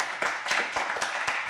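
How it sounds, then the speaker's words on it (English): Audience applause welcoming a startup founder onto a pitch-event stage: a short burst of steady, fairly close clapping from a small crowd, with no talking over it. "All right, round of applause."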